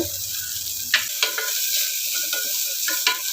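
Green chili and fennel seeds, with curry leaves and coriander, frying in hot oil in a pan for a greens rice dish, giving a steady close sizzle broken by a few sharp stirring clicks.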